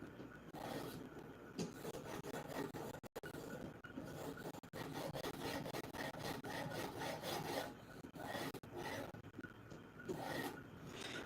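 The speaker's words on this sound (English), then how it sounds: "Kind of just moving to finish off this steel. Kind of just going to deburring now." A hand file rasps back and forth on a steel knife blade to deburr it, a close, rhythmic scraping that continues throughout with a couple of short pauses.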